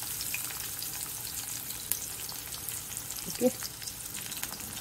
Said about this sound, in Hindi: इनको हम करेंगे अच्छे से फ्राई होने तक इनको।